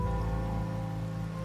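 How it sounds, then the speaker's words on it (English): Steady rain falls on a surface in the video game Wuthering Waves, a dense, even patter that holds at constant loudness throughout, with a faint low musical hum beneath and no voices. "Rain's back."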